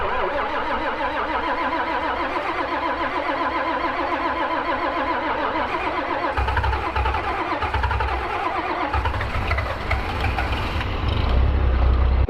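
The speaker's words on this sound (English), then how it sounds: "Let's see if we can pull off a cold start today" A John Deere 4010 tractor engine cold-starts on a winter day, cranking rhythmically for several seconds before catching and settling into a rough, steady idle, loud and close.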